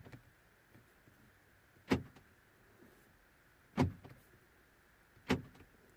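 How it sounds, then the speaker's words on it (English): Central door locks on a 2009 Seat Leon actuate three times, each a short mechanical clunk spaced about two seconds apart, faint and close inside a quiet car. "when I lock or unlock the car from the button inside"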